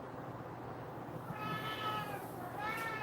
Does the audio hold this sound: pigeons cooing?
no